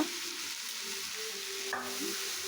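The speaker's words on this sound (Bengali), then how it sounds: "টমেটো কুচিটাকে দিয়ে ভালো করে নেড়ে নিচ্ছে" Chopped tomato fries in a hot pan with a steady, close sizzle, broken by soft scraping strokes and one brief clink as it is stirred.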